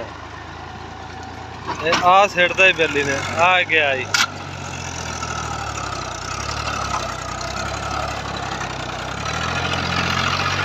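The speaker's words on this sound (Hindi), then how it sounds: "ट्रैक्टर की आवाज़ सुन लो" A Fiat 450 tractor engine idles steadily on farmland, a continuous low rumble that runs under someone talking in the first part and then carries on alone, growing slightly louder toward the end.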